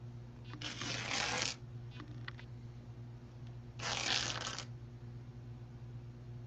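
Two separate bursts of a fabric scarf being ripped by hand, each lasting about a second, with a quiet gap between them and no talking.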